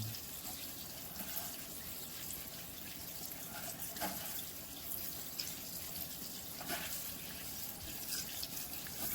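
Sea moss rinsed under a running kitchen tap, a steady, fairly quiet stream of water splashing continuously for several seconds with no one talking.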